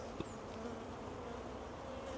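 Honeybees drone steadily around an open hive during a second inspection of a brood box, a soft, continuous buzz with a single sharper bee passing close early on.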